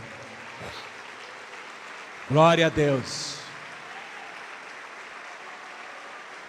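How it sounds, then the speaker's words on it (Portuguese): A church congregation applauds to the Lord in a steady, diffuse wash of clapping, while a voice briefly speaks over it. "pode aplaudir ao Senhor Jesus agora"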